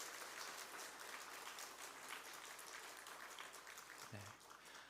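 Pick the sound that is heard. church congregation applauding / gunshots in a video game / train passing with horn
church congregation applauding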